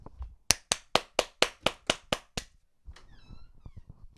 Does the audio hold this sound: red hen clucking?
no